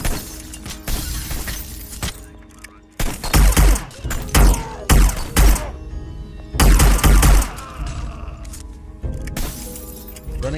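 Gunfire in the video game Hitman Blood Money: loud bursts of rapid shots and sharp cracks arriving in clusters, with breaking, shattering impacts between volleys and a few quieter pauses.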